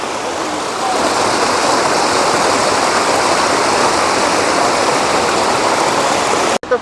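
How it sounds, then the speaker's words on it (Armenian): A mountain spring in Jermuk, Armenia, gushes steadily, a dense, loud and unbroken rush of flowing water that fills the whole stretch before cutting off abruptly at the end. "Լեռնային աղբյուրներ։"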